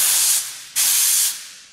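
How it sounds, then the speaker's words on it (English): Bezzera Galatea espresso machine steam wand purging condensed water: two loud, close bursts of hissing steam, each lasting under a second, separated by a brief pause. "Then I stop, clean the steam wand, of course, and remove the condensed water."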